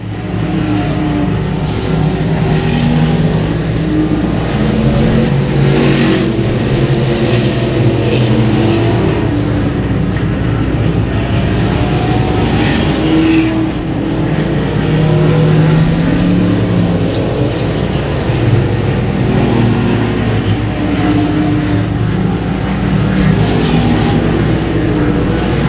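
Race cars roar around the track at the Star-Spangled 200, a loud continuous engine drone with rising and falling revs as cars pass, filling the whole stretch with no talk over it.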